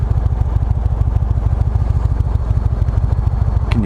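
A fully loaded Indian Chieftain motorcycle pointed up a steep hill runs with a steady, loud, rapid thumping engine pulse throughout, close and alone without talk.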